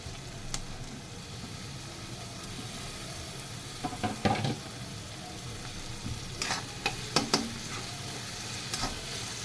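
Onion and tomato fry in a pan for wheat kurdai vegetable curry, with a steady soft sizzle and occasional scraping stirs close by.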